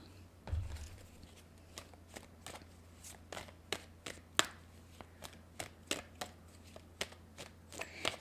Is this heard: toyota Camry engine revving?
no